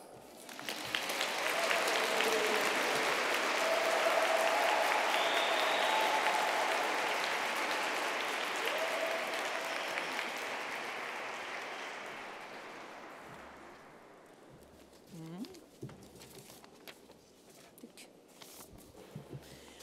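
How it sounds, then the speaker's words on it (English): Loud, sustained applause from a large audience fills a graduation and awarding ceremony hall at IHE Delft, swelling early, then gradually thinning after about twelve seconds to scattered claps and faint stage noises. "I think that you deserve a big applause again."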